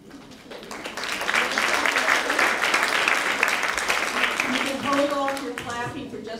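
Applause from an audience at a Women Who Inspire Us evening event, swelling up from quiet into a full, even roar of clapping, then thinning as a voice begins speaking over the tail end.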